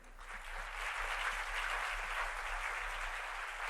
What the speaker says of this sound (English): give a big round of applause for our speakers today